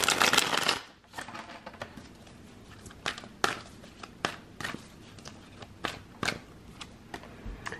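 A prophecy card deck is shuffled up close in a quiet room, with a burst of riffling at the start followed by scattered soft card snaps and taps.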